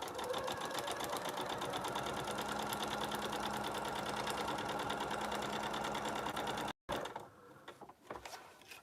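A sewing machine stitches quilt block pieces together in a fast, steady mechanical run, then stops abruptly, followed by softer handling noises.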